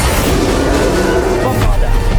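A dense, loud burst of blasting from the Bombarda spell in Hogwarts Legacy, a booming crash filling the whole moment, with a brief extra thump near the end.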